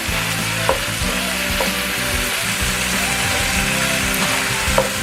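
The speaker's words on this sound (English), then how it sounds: "To braise the meat very quickly, you're putting in the ground beef and ground pork" Ground beef and ground pork fry in a ragu for lasagne, giving a steady, close sizzle with soft stirring scrapes and a couple of light knocks, with no talking.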